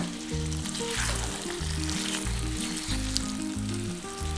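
Kadai chicken sizzles steadily in a pan as capsicum and curry leaves are stirred in, a constant hiss and crackle heard under background music with no voices.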